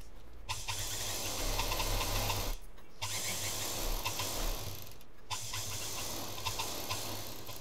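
Sewing machine running steadily while stitching fabric for a home-made shopping bag, a continuous whirring, rattling drone broken by two brief stops, moderately quiet and without speech.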